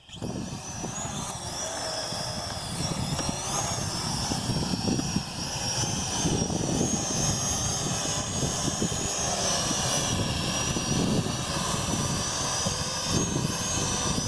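A World Tech Elite Venom Pro GPS quadcopter drone gives a steady, high-pitched whirring drone of small rotors, humming continuously, fairly close, with slight pitch wavering as it hovers and moves.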